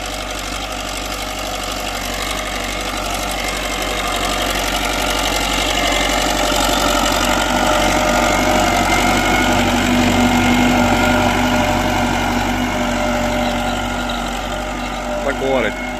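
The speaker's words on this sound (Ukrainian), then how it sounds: "трактору трохи легше цього плуга тягнути" A tractor engine labors steadily while dragging a plough through a field being prepared for sowing soybeans, a continuous loud drone and rumble lasting throughout, with voices talking over it.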